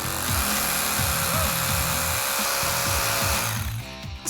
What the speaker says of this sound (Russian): При работе с бетоном мы используем следующий инструмент. Это, в первую очередь, перфоратор.